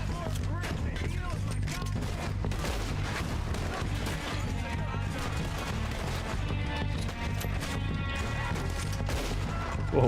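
Gunfire from Red Dead Redemption 2, dense continuous shooting with crashes and impacts layered over game music, loud and sustained throughout, with a voice talking over it.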